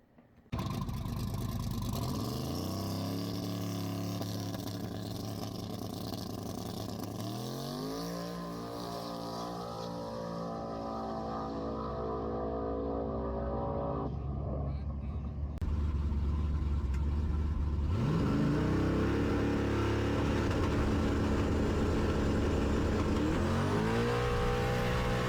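A 1200hp SBE 4.8 race car makes a full drag pass at Amarillo, its engine roaring loud and close as it climbs through repeated gear-change sweeps, then briefly lifts before howling back to full power.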